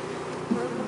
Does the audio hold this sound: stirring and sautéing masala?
no